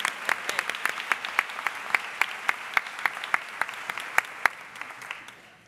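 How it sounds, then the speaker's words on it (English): Scattered individual claps ring out in a crisp, evenly spaced rhythm from a small audience at a school convocation day, thinning toward the end, with no voices. "Give them another round of applause."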